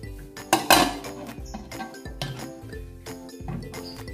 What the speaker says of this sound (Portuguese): Agora vou estar tampando a panela de pressão.